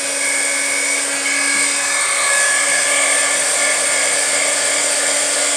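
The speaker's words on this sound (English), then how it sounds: "I'm going to hit it with some heat." A heat gun blows on a card to dry ink, a loud, steady, close whirring whine with a constant tone that holds unchanged from start to finish, with no other sounds.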